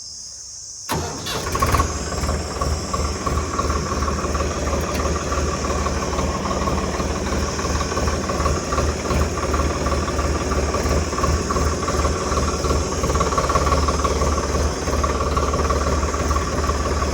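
A Swaraj 855 FE 4WD tractor with a 3478cc engine cranks and fires up in neutral, then settles into a steady, loud, throbbing diesel idle with a low rhythmic chug close by.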